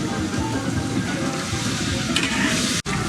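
Food frying and sizzling in a pan outdoors, at a Chinese-style picnic barbecue, with a hard pebble-like ingredient melting in the pan; a steady, fairly loud crackling sizzle runs throughout, with a brief dropout near the end.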